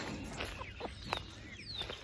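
Soft, scattered clucking and chirps from a few chickens, fairly quiet, with short irregular calls over a low background hum.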